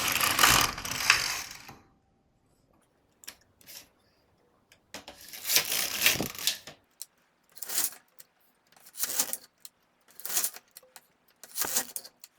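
A hand-operated knitting machine carriage sliding across the needle bed in several separate passes, each a rattling mechanical clack and whir with short quiet gaps between, close and moderately quiet.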